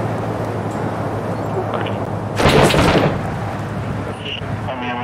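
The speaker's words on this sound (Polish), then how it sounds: "Strzał." A single loud gunshot rings out in a hard-difficulty military team shooter, a sharp broadband burst with a short decaying tail over steady ambient game noise, with faint talk around it.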